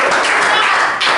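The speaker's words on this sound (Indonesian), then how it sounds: "Sudah tepuk tangan untuk kita semua" A group applauding at a student leadership training camp: a short, dense burst of many hands clapping together at close range, steady and loud, with a slight dip near the end.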